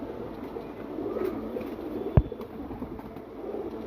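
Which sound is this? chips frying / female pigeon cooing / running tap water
female pigeon cooing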